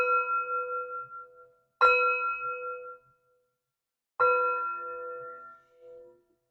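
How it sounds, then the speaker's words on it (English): Metal chimes are struck to bring in positive energy: three bright ringing strikes, each sustaining and slowly fading, spaced about two seconds apart, close and clear with no talk. "3 chimes to bring in the positive energy"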